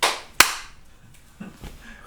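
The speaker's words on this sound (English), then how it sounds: "Why did you take so long to clap?" A single sharp hand clap for syncing a recording rings out loud and close after a brief noise burst, followed by faint quiet sounds.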